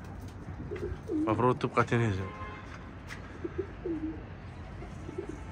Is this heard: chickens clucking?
no